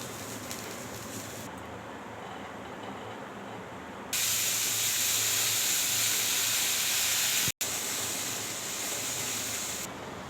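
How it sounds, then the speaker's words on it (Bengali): Vegetables tipped into a hot wok on a home stove burst into a loud, steady frying sizzle and hiss that carries on for several seconds, after a quieter stretch of soft background noise. "দেখুন কড়াই গরম হয়ে গেছে, এবার ঢেলে দিই"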